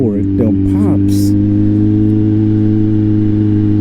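A Kawasaki Z900 motorcycle with its airbox removed, heard while riding: a loud, steady engine drone with a few short exhaust pops near the start, close and continuous throughout.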